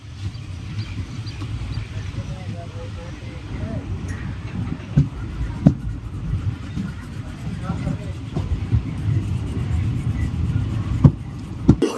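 Inside the 16031/16032 Andaman Express running non-stop between New Delhi and Nagpur, a continuous low rumble of wheels on rails plays with occasional clanks and sharp clicks from the track joints.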